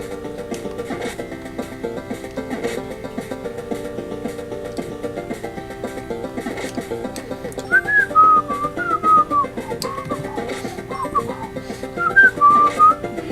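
A person whistles a tune over epic background music from the retro game Neutopia II, the melodic whistled phrases coming in short, wavering bursts in the second half, fairly clear and close.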